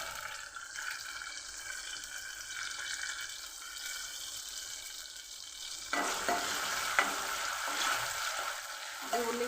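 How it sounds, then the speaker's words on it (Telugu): Onions tossed into hot oil in a pan for an eggplant, potato and tomato curry burst into a loud, steady sizzle that follows a quieter stretch of soft kitchen noise and faint stirring. "ఇప్పుడైతే ఉల్లిగడ్డలు వేసుకుంటున్నా."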